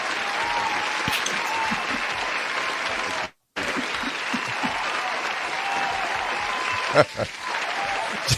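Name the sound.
applause sound effect from button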